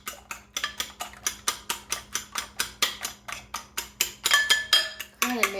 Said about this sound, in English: And I'm going to whip these up just a little bit more.